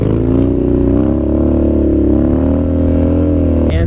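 A Harley-Davidson Dyna motorcycle engine held during a wheelie, a steady loud close rumble with a slowly rising pitch and no speech.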